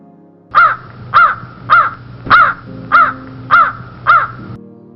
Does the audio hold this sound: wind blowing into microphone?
no